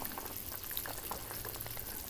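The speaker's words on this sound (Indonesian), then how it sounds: "ini si kepala ayamnya airnya sudah mendidih" Water boils in a pot of chicken heads for stew, a dense, steady bubbling and popping heard up close with no talk.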